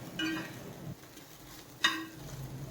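Soya chunks frying in a pan over a low flame while being tossed: soft stirring scrapes and a gentle sizzle, with two brief clinks of a utensil against the pan, close and fairly quiet.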